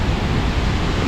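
Waterfall near Baños, Ecuador, a dense, loud, unbroken roar of crashing water heard at close range, with a wind-like rush filling the whole short moment.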